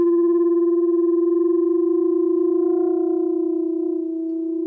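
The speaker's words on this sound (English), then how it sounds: "we should have this mechanism called beats, which I will give you evidence of forthwith" Two organ-style pipes sounding together give a steady pure tone that swells and dips in slow, regular beats, fading slightly toward the end, with no voices.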